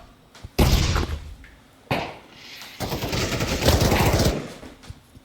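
An Uzi submachine gun fires in a video game at a shooting range: two loud, close bursts, then a longer sustained burst, separated by brief pauses.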